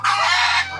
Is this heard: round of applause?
no